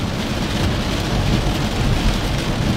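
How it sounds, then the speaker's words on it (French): Heavy rain drums steadily on a car while driving, a dense continuous wash of close rain noise with low road rumble and no voices. "Là, c'est vraiment dû au fait qu'il pleut pas mal."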